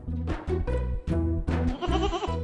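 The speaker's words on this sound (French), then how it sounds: "À chaque fois que j'entends cette chèvre bêler, ça me rend très nerveuse" A goat bleats repeatedly, loud and close, its wavering, nasal calls coming in several rhythmic pulses with brief gaps between them.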